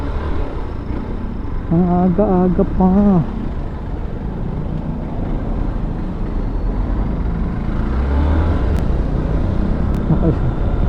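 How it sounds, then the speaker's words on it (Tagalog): Early-morning road traffic in a barangay preparing for its fiesta, a steady rumble of cars, trucks and motorcycles nearby, with someone speaking briefly early on and a couple of sharp clicks later. "At traffic na agad."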